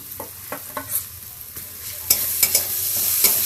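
Garlic paste frying with golden, softened onions in a pan for red chicken curry, with soft sizzling under a few scattered stirring scrapes and taps, growing a little fuller toward the end.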